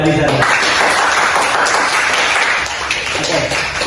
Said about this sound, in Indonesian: Oke, tepuk tangan dulu buat Aziza